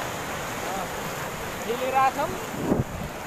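Rough, swollen sea breaking at the shore, a broad wash of surf mixed with gusting wind buffeting the microphone, with a person talking over it.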